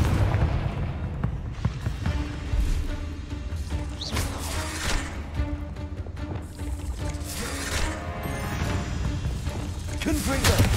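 Fire spell bursts in the Hogwarts Legacy video game, booming and crackling through a dense wash of battle noise, with mechanical clanks and impacts running steadily throughout at loud level.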